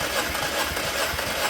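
A Peugeot 208 with the EC5 VTi 1.6 16V engine, which has a misfire fault, cranks and runs with a steady, dense engine drone and a faint rattle. The sound holds even throughout the short stretch.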